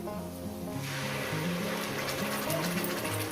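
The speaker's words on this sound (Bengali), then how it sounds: "মশলা দিয়ে মশলা বাটি ধোয়ার জলটা আমি দিয়ে দেবো" Water from rinsing a spice bowl is poured into a pan of fried onion and spices for a katla fish curry, making a rising, close sizzling rush over faint background music.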